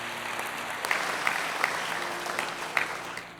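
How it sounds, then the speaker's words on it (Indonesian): Applause from a church congregation for Jesus during a sermon, a steady moderate wash of clapping with a few sharper claps standing out, no speech over it. "Boleh kasih tepuk tangan buat Tuhan Yesus, saudara."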